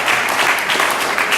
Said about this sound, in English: Give everybody who's participating a round of applause.